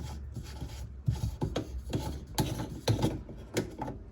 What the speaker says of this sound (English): the first thing we're going to do is we're going to unscrew this right here